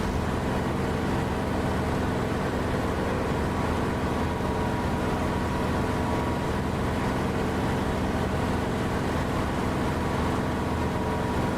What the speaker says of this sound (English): it transmits a whole ton of engine noise as well